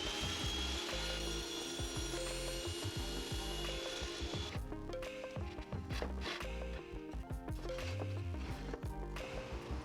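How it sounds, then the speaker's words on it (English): Wooden cross supports are cut on a table saw with a crosscut sled. Rough mechanical rubbing and clattering are followed by louder scraping and knocking bursts as the wood is pushed through, fairly close. "Then I cut out the cross supports to the size at the table saw."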